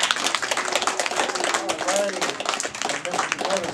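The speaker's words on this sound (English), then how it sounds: "let's give them a round of applause before we take some pictures" Applause at a school students of the month ceremony: a crowd claps in a steady patter for several seconds, with voices talking over it.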